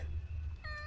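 A short, faint meow from a mother cat in a Konkan village home, rising briefly near the end over a low background hum, with no talking.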